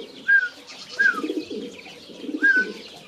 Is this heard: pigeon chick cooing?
yes